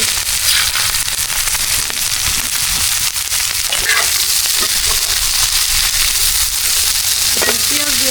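Onions frying in a hot wok outdoors on a cold, rainy evening make a loud, constant crackling hiss, with faint scraping of stirring.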